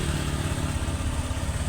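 A Honda Click 125 scooter with a fault that makes the engine stall once it gets hot, here idling steadily with an even, close mechanical drone and no talk.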